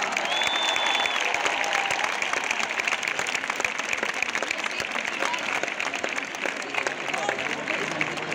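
A big concert audience in Málaga keeps up sustained applause for the bassist, loud clapping filling the space with scattered cheers mixed in.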